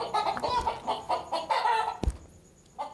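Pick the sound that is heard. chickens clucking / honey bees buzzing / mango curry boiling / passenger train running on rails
chickens clucking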